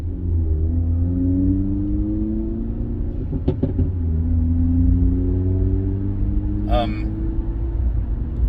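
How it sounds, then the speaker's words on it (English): A Hyundai car accelerating past on the road, heard as a steady low engine rumble with rising harmonic tones. It stays loud and close throughout, with a couple of brief clicks partway through. "I'm being silent so you can hear that car."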